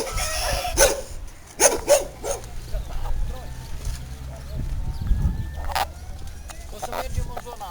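A dog in a village yard barks a few times in short bursts, mid-distance, amid outdoor ambience with a low engine-like rumble underneath and scattered other noises.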